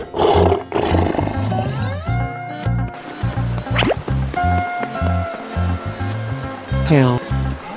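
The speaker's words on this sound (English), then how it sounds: "lion" A lion roars in a children's animal guessing game, loud roars over a steady rhythmic music backing with other playful sound effects mixed in.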